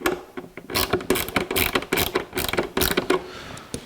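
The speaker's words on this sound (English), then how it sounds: "Put a screw in." A screw is driven into the heater box of a 1982 Jeep CJ7 during restoration, with a fast run of close, loud ratcheting clicks and metallic mechanism chatter lasting a few seconds.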